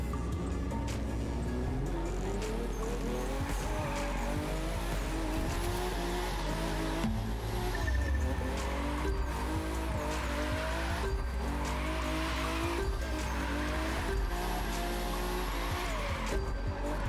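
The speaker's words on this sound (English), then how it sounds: "this is just casual drifting too." A car drifts in a racing game while its engine drones and revs continuously and its tires squeal in drawn-out wails, all loud and sustained with no pauses.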